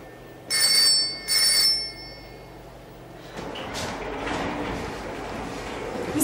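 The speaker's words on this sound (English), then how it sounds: "Phone's ringing." A telephone bell rings twice in short, bright bursts, then gives way to a rustling, noisy room ambience.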